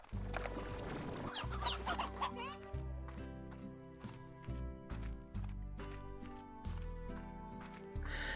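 Chickens cluck repeatedly in the video game Slime Rancher, layered over steady game music with a voice talking at times.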